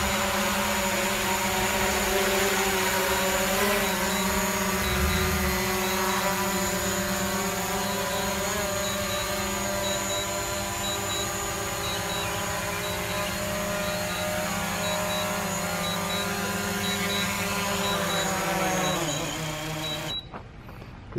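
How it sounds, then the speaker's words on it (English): A DJI Mavic Pro drone lands slowly, its propellers giving a loud, steady high-pitched buzz with a droning whine that shifts slightly in pitch as it corrects position, then the motors spin down and cut off near the end. "It'll correct itself as it lands to make sure it lands in the same spot."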